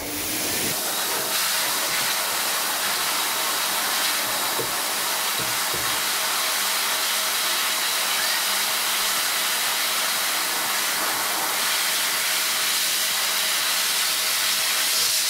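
An Air Force blaster dog dryer blows through a dirty dog's coat during grooming, giving a loud, steady, close rushing hiss that holds for the whole stretch without pause.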